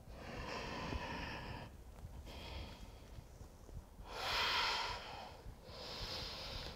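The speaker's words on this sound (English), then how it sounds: "Just listen to the sound of your breath." Deep, forceful breaths push in and out during a plank in an abs workout, with several long, close, airy exhales and inhales and no talk over them.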